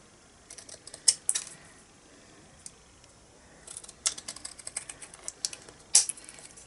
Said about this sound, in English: And then we're just going to cut this out.